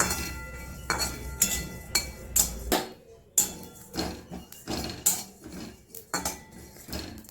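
Cumin seeds dry-roasting in a pan, heard as a series of sharp metallic clinks and scrapes of a spatula against the pan, irregular and close, with brief quiet gaps between strokes.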